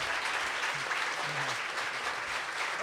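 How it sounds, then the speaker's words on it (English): Applause from an audience at a conversational event with an author, a sustained even clapping at moderate distance that carries steadily to the end with no other sound breaking through. "can we get a round of applause for D?"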